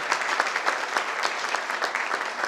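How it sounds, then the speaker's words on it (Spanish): A congress audience gives a warm round of applause for a visiting priest, many hands clapping in a dense, even patter that stays fairly loud for the whole stretch with no one speaking. "Damos así de nuevo un fuerte aplauso al Padre Leonfredi"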